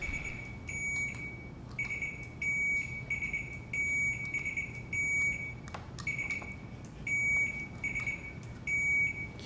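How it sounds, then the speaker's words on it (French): A loud electronic quiz buzzer beeps repeatedly in short bursts, about once a second, over a low steady hum, as quiz buzzers are tested. "On va tester vos buzzers pour être sûr que ça fonctionne encore."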